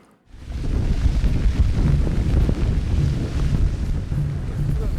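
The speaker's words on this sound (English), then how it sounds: "That game drive was so windy and so cold." Strong wind roars steadily against the microphone on a game drive at Thula Thula, a loud continuous low rumble buffeting throughout, with no clear voices.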